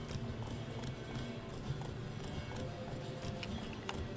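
Roach the horse gallops in The Witcher 3, hooves clip-clopping in a quick steady rhythm over a continuous game ambience, moderately loud and close.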